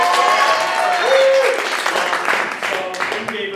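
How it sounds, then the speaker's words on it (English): Applause from an audience at a senior project show fills the room in a thick, lively burst that gradually thins, while voices speak faintly over it. "A round of applause for the big applause."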